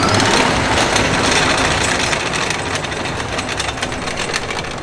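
Tesla electric motor fitted in a VW Golf VI GTI revving hard, a steady high-pitched whine under broad road and wind roar, loud and continuous throughout with a slight easing toward the end.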